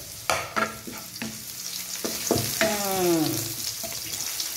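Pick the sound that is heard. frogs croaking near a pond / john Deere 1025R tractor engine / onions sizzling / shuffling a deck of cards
onions sizzling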